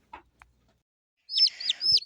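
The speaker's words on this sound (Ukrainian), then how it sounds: "піду, піду, тому що курчата пищать" A few tiny high peeps from chicks come in a quick cluster near the end, after two soft knocks and near silence.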